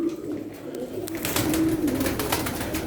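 Tumbler pigeons in a flock of fifteen, cooing softly in a low, continuous murmur against steady background noise, with no talk.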